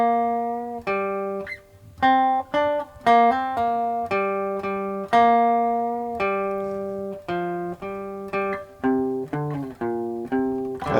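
A 3-string cigar box guitar plays a riff up close, a string of clear plucked and slid notes in a stop-start rhythm that moves between the main riff and a lower passage, with no talking over it.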